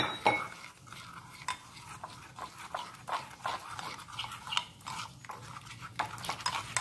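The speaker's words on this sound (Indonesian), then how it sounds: "ini diaduk terus ya, jangan sampai ada yang menggerindil ya" Thick batter with catfish pieces is stirred with wet, irregular scraping and sloshing, close up, with utensils clinking faintly against the bowl.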